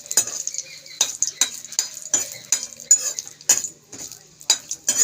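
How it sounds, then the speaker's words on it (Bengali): Spice tempering (phoron) frying in a pan for a turnip or kohlrabi dal, with a string of sharp spoon clinks and scrapes against the pan over a faint sizzle, heard close up. "ফোড়ন আমার ভাজা হয়ে গেছে"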